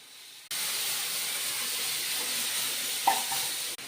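Panch phoron and a ground paste of green chilli, ginger, cumin and coriander hit hot oil with a sudden loud, continuous hissing sizzle that holds steady for several seconds, close to the pan.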